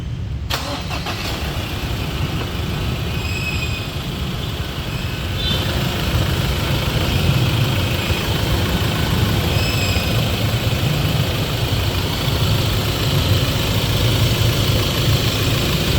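A Ford Ranger 2.2 diesel truck engine cranks and catches, then settles into a steady, loud, rumbling idle that runs on continuously, close by, during alternator pulley replacement work in a garage.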